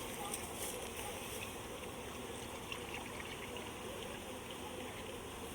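Sugar syrup of equal parts sugar and water trickles steadily into a beehive inner cover during installation of a package of bees, a continuous soft pour mixed with a busy hum of bees throughout.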